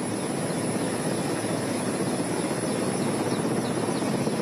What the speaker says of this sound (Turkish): Jandarma helikopterleriyle birlikte yardımlar taşınmaya devam ediyor.